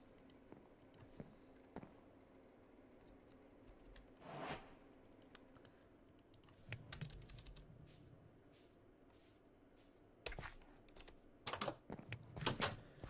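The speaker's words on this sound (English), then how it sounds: "Sorry about that typing there." Faint typing on a computer keyboard, scattered key clicks coming in short irregular bursts with quiet gaps, growing busier toward the end.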